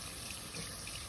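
Tap water running into a kitchen sink for hand washing, a faint, steady hiss of flowing water heard alone for about a second.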